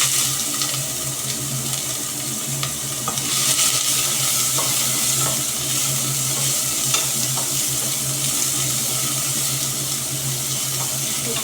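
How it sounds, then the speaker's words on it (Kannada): Onions fry in a hot pressure cooker with bay leaves for a dill leaf pulao, a constant close sizzle with occasional stirring scrapes and no speech. "ನಾನಿಲ್ಲಿ ಈರುಳ್ಳಿ ಹಾಕ್ತಾಯಿದ್ದೀನಿ."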